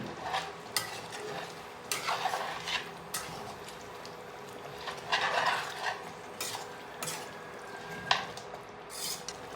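Chicken and about 100 ml of water are stirred together in a pan for a Tamil chicken samma, with a soft steady scraping and light clinks of a spoon against metal over a quiet sizzle.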